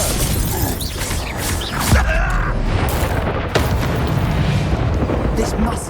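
Confringo fire spell blasts in the Hogwarts Legacy video game, loud bursting booms and crackling impacts cutting through a busy combat mix, with voices speaking around them.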